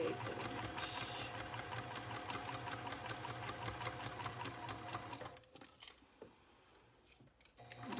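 Sewing machine stitching a drop-in bag lining at a 1/4 inch seam, running in a fast, loud, even rattle before stopping abruptly and giving way to quiet handling sounds.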